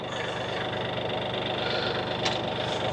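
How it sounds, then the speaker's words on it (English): Mahindra Max tractor lowering its backhoe stabilizer legs, a steady close engine drone with a brief mechanical shift near the end. "we're going to lower our lift legs stabilizers here"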